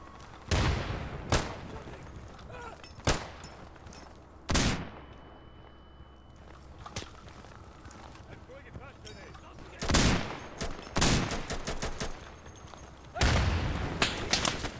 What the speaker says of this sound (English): Friendly fire! Friendly fire! Cease fire!